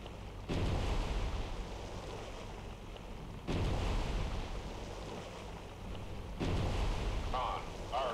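Gun hits strike an Arleigh Burke destroyer at sea in Cold Waters, with three loud booming impacts a few seconds apart, each followed by a sustained roaring wash, and a brief voice-like sound near the end.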